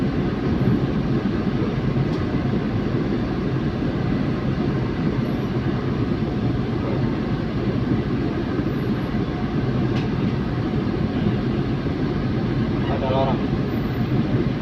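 Interior rumble of a high-speed train on the run into Padalarang Station, a loud steady low roar with faint rattles and hiss throughout, with an announcement voice over it.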